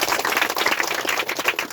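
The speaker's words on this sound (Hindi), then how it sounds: "एक बार ताली बजा दो परमेश्वर के लिए" A church congregation claps together for God, a brief, dense patter of many hands heard close and fairly loud.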